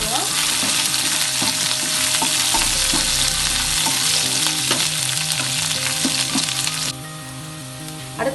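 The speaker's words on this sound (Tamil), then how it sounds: "அது கூடவே இஞ்சி, பச்சை மிளகாய், கருவேப்பிலை 3 சேர்த்துக்கலாம். நல்லா வதக்கிக்குவோம்." Ginger, green chili and curry leaves fry in hot oil for masala bonda filling, a loud continuous sizzle crackling close up with repeated scraping stirs, easing somewhat toward the end.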